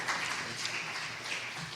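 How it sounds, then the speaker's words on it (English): Brief, moderately quiet applause from a campus worship congregation honoring senior student chaplains, a soft wash of many hands clapping at once that carries evenly for under two seconds. "Can you give them a hand of applause,"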